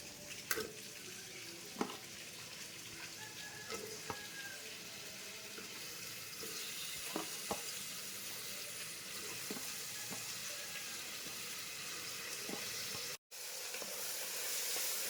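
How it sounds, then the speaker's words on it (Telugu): Green chillies, onions and tomato frying in oil in a pressure cooker, a steady broad sizzle running throughout with a few faint clicks and knocks, no talking. "కాస్త ఆయిల్ వేడెక్కాక పచ్చిమిర్చి, ఉల్లిపాయలు, టొమాటో వేసేద్దాం."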